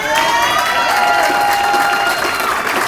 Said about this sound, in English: We brought a cheering squad.